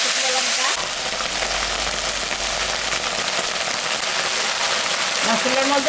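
Ginger, cumin and dried red chili frying in hot oil for a Bengali dish; a loud, dense, rain-like sizzle runs continuously and close, with a faint voice briefly audible at the start and end.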